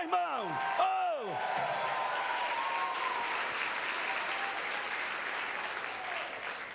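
A Catholic congregation applauds during a priest's daily reflection, steady clapping at a fairly constant level after two loud swooping tones at the start, with a few faint voices mixed in.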